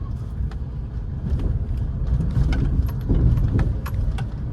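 Car engine revving gently as a learner lets out the clutch during a driving lesson in Nawada, a steady low mid-range drone that rises slightly partway through, heard from inside the car.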